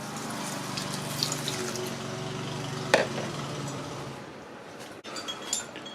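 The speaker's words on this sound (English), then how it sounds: "I'm going to add 1 cup of water." Water poured into a rice cooker pot, a continuous splashing gurgle up close for about three seconds, ending in a brief clatter and then quieter handling sounds.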